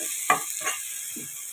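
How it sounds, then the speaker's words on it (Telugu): Tomato puree fries in a pan for egg curry, a continuous hiss broken by a few scraping stirs of the spoon, close and moderately loud with no speech. "ఇది కూడా పచ్చివాసన పోయేదాకా ఫ్రై చేసుకోవాలి."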